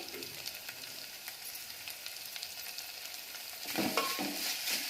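Fenugreek leaf curry being stirred in a pan after salt is added, a soft continuous sizzle with faint scraping strokes, growing a little louder and busier toward the end, no voices.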